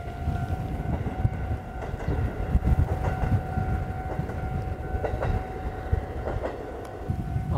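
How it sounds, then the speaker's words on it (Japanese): A train passes by on a rail line in the rural countryside of Abira town in Hokkaido, heard as a steady rumbling roar with rhythmic wheel clatter and faint high tones, continuous at moderate volume with no talking. "電車が来ますね。"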